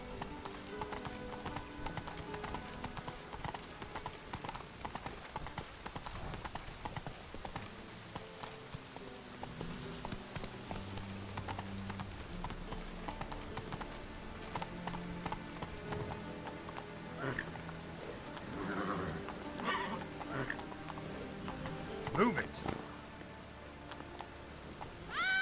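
The horse Roach gallops in The Witcher 3 video game with a continuous rhythmic clip-clop of hooves, mixed with rain and brief voices, fairly quiet throughout.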